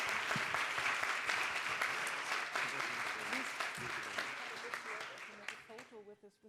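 Sustained applause from a crowd, loud at first and tapering off toward the end, with a few voices mixed in.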